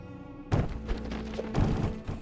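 Cardboard boxes knocked over in the video game Deus Ex: Human Revolution, two close hollow thumps about a second apart with a brief clatter after each, over a faint background hum.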